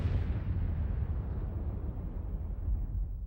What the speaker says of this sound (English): this fireball exploded.